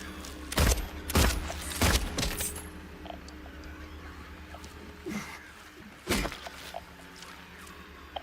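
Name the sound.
gunshots in video game Silent Hill 2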